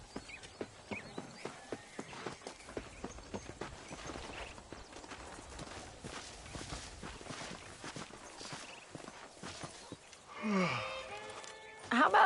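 A horse walking in the Red Dead Redemption game, hooves clip-clopping in a steady even rhythm, then a short snort or whinny near the end, with voices talking in the background.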